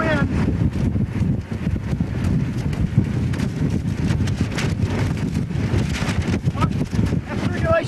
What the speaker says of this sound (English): Extreme wind.